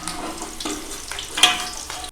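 Eggs frying in hot oil in a home kitchen, a steady soft sizzle with a few louder crackling pops and stirring scrapes, close by with no talk over it.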